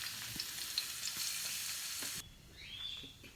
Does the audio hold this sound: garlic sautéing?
yes